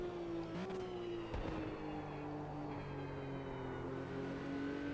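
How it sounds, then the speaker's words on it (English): A Porsche 911 RSR '77 flat-six race car engine in a video game roars continuously, pitch climbing and dipping through gear changes, close and steady with no talking. "Oh, just listen to that flat 6, it just roars."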